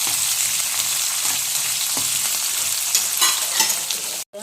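Onions frying in a pan for a potato curry, a steady close broadband sizzle with faint stirring scrapes throughout, alone without voices and briefly cut off near the end.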